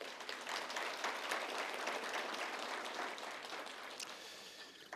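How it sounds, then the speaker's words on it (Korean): Party members at a New Politics Alliance Seoul chapter debate forum clap for leader Park Jiwon, a dense, steady round of applause filling the hall throughout and easing slightly at the end. "다시 한번 우리 박지원 대표님께 힘찬 박수로 격려 부탁합니다"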